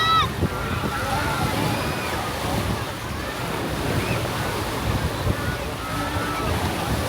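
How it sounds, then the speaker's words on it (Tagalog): Rough sea waves crash and wash onto a beach in Zambales, a continuous surging roar with wind buffeting the microphone and voices faintly underneath. "maalon kasi yung dagat"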